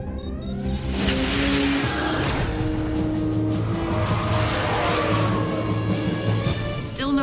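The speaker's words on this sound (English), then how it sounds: "Maru entering slipstream." The spaceship Maru enters slipstream in a sci-fi sound effect: loud, sweeping whooshes layered with rising and falling electronic tones that swell steadily for several seconds.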